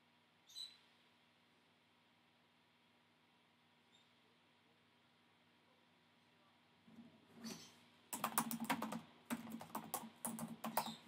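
A computer mouse clicks and a keyboard is typed on at a desk, quiet at first with a couple of faint clicks, then a dense burst of close, rapid key taps in the final seconds.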